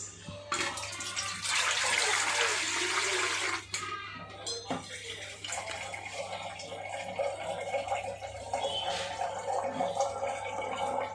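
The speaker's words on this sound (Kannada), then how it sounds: "ಇಡ್ಲಿ ಪಾತ್ರೆಯಲ್ಲಿ ಇಡ್ಲಿ ಬೇಯಿಸೋಕ್ಕೆ ಎಷ್ಟು ನೀರು ಹಾಕ್ತೀವೋ ಅಷ್ಟು ನೀರನ್ನು ಹಾಕಿ" Water pours into an idli steamer pot, a steady gushing splash that rises and then settles into a softer trickle. A faint background hum runs throughout.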